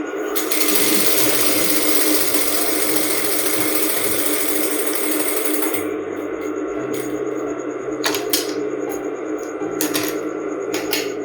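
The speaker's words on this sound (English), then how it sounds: "Then I'm going to sew up this place." A sewing machine stitches a cone sleeve with a steady, loud, continuous whir that runs unbroken for several seconds, then settles into shorter runs separated by brief pauses.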